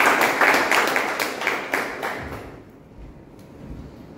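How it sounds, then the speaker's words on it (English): Applause from the audience at a Toastmasters club meeting, a burst of many hands clapping together that fades away after about two seconds, leaving quiet room tone. "Let's have a big round of applause for the"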